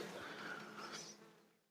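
Honey bees hum steadily on a hive frame during queen rearing, a soft close buzz that holds for about a second before fading away.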